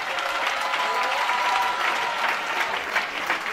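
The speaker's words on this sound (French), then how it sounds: "On acclame le Seigneur pendant qu'elle arrive, on acclame le Seigneur." A church congregation claps and cheers steadily and fairly loudly as a woman arrives, the applause dense and continuous throughout.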